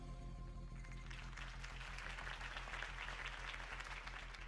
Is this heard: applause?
yes